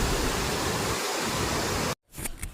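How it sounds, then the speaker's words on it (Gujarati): A waterfall opposite the Khodiyar Mata temple at Dhari pours with a steady, loud, broadband rush, then the sound drops out abruptly near the end before faint noise returns. "ખોડિયાર માતાનું મંદિર છે એની સામે એક્ઝેક્ટ તમારે આ ધોધ જોવા મળશે તમને, જે ખૂબ જ સુંદર દેખાય છે"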